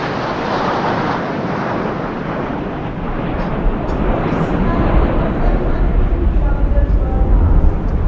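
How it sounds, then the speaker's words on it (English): Six Jaguar jets in Amrit formation at about 750 km/h over the Republic Day Parade 2023, a broad roaring rumble that builds steadily and stays loud throughout, with crowd and wind noise mixed in. "अमृत formation, जिसमें 6 Jaguar 750 kilometre की रफ्तार से उड़ते हुए ग्रुप कैप्टन NP वर्मा की कमान में"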